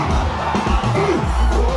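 A packed crowd at an event with musical performances roars and cheers, a loud dense mass of shouting voices filling a brief moment.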